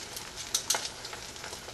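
Chicken sizzling in a pan over medium-high heat, a steady frying hiss with a few brief louder crackles and pops, close and alone.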